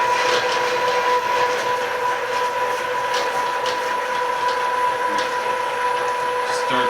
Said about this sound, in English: So now we can go from here right into our meat grinder. Turn the meat grinder on.